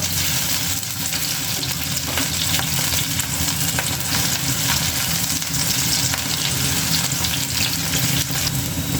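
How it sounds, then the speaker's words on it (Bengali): Soybean chunks fry lightly in hot oil in a pan, making a loud, close, continuous sizzle with soft stirring beneath it and no voices. "হালকাভাবে ভেজে নিব"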